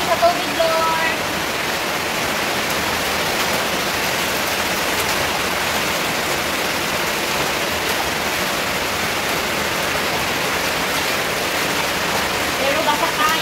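Water pours steadily in a broad, constant rushing hiss like a waterfall, loud and close throughout, with no breaks.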